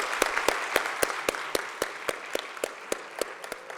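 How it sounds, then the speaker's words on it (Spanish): A panel audience applauds with a steady spatter of claps over nearly four seconds, fairly distant and moderately loud, with no talking over it. "Les damos un aplauso."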